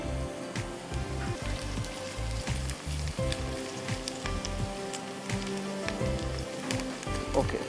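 Onions frying in oil until lightly golden for beef haleem, a continuous close crackling sizzle like light rain, steady throughout with no one talking.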